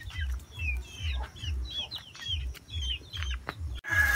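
Pet chickens on a farm in Cebu cluck at feeding time, a close steady series of low rhythmic clucks with higher chirps above, ending in a brief rustle.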